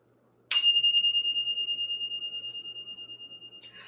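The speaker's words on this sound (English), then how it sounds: "We're going to ring the bell" One bell is struck once and gives a sharp, bright strike followed by a long, clear ringing tone that fades slowly with a gentle pulsing over about three seconds, alone in a quiet room.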